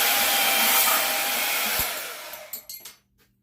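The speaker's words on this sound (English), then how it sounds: "So I got the bandsaw out. Like I said, I'm going to cut this side right over here." A bandsaw cuts through a 1-inch piece of number 2 copper pipe near a brass valve, giving a loud, steady broadband whine that runs for about two seconds, then cuts off into a few short clicks and rattles before silence.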